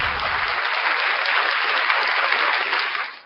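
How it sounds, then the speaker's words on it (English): Loud, dense audience applause for Reggie and LFA on a morning stream show, a continuous wash of clapping that holds steady for about three seconds and then fades out. "Round of applause for Reggie and LFA"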